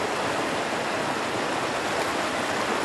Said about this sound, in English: We're stuck right in the middle of a rapid here.